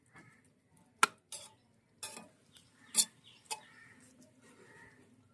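A spoon stirring grated coconut into a jackfruit seed stir-fry in a pan, a few sharp scrapes and clinks spaced irregularly, close but soft, with faint clucking of a chicken in the background.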